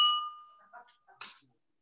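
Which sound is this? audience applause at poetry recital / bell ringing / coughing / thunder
bell ringing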